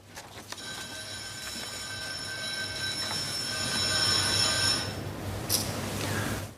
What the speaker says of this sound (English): Clerk, ring the division bells.